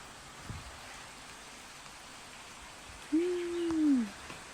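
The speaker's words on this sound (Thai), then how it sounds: "อุ้ยฝนตกแล้วเริ่มหนักแล้วเริ่มหนักแล้ว" Rain falling outdoors, a steady, fairly quiet hiss of drops on surfaces, broken near the end by a brief whistling tonal call.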